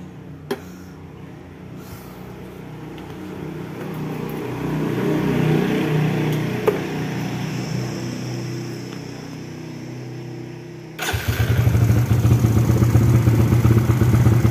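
A Suzuki Smash 115 motorcycle with a stock CDI and silencer fitted, a quiet idle hum and clatter building before the engine catches near the end and settles into a loud, steady, rapid idle putter.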